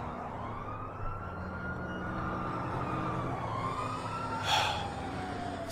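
A police car siren in the video game GTA V wails in rising and falling sweeps over a rumble of engine and traffic, moderately distant, with a brief burst of noise near the end.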